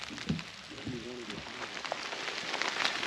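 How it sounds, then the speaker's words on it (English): Rain falls during a hike on a long mileage challenge, a soft steady patter of drops on surfaces with brief voice sounds near the start. "It's raining"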